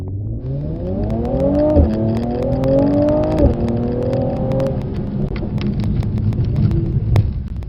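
A Mercedes C43 AMG on a track day circuit revs hard through two rising gear pulls, its loud engine note climbing then dropping at each shift before settling into a steady roar, heard close with no talk.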